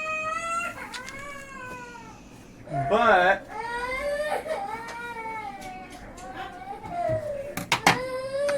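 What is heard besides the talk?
young child crying in a dramatic outburst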